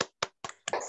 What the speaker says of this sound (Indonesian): Kita tepuk semangat ya, Bun.